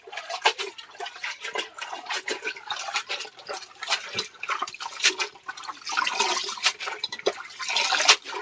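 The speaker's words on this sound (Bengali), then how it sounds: "শাকগুলো ভালো করে ধুয়ে নিচ্ছি।" Leafy greens being rinsed by hand in water, with irregular splashing, sloshing and dripping close by, continuous throughout with no talking.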